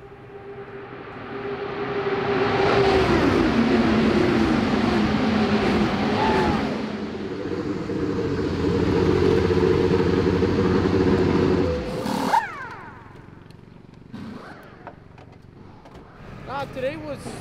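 A race car lapping a proving-ground track, engine note loud and sustained with rising and falling pitch for about twelve seconds, then cutting away to quieter ambience with brief knocks.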